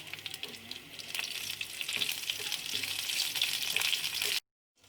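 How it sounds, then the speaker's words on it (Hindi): Cumin seeds and fresh red chili crackle and sizzle in hot oil for a raita tempering, a close, steady frying hiss that grows slightly louder before it stops abruptly. "ये मेरे पास फ्रेश रेड चिली है, मैं ये डालूँगी"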